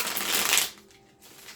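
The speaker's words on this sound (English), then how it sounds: "And one final shuffle." A quick riffle of tarot cards being shuffled, a brisk papery flutter close up, then quiet with faint rustling.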